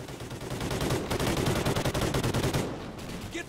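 Sustained rapid machine gun fire rattles through a Call of Duty Ghosts battle, a dense continuous burst of loud close shots that runs for a few seconds before thinning out.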